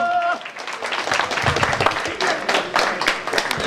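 Spectators clapping at an old-boys football tournament prize ceremony, a close, uneven patter of individual claps with a voice briefly heard at the start.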